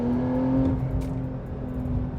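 A Porsche 911 GTS of the 992 generation accelerates hard from inside the cabin, its engine note steady and strong throughout with a brief rising whoosh midway, no talk.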